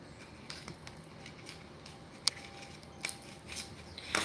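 Tarot cards being shuffled in a quiet room: soft repeated riffling and papery flicks, with a few sharper snaps toward the end.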